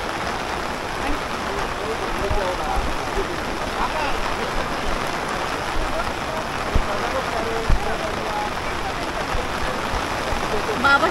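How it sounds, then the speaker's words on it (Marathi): Rain falls steadily in a dense, even hiss, with faint murmurs in the background and occasional soft knocks. "खूप पाऊस पडतोय"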